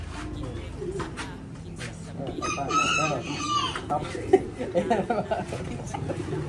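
A rooster crows amid a busy farmyard, with other birds calling and people talking in the background throughout.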